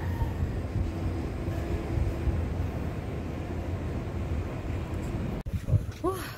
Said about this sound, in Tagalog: Yan yung train dito sa Stuttgart.